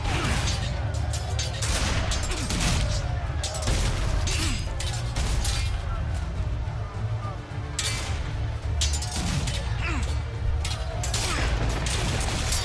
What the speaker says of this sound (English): there's no holes breaking into our ship from all these cannonballs coming through